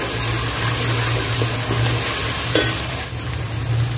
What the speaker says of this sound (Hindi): ये प्याज के साथ भुने जाएगा